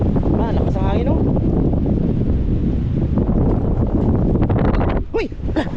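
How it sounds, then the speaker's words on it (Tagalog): Strong wind buffets the microphone during an island boat trip, a loud steady roar with brief voices near the start and end. "Lakas ng hangin mga idol"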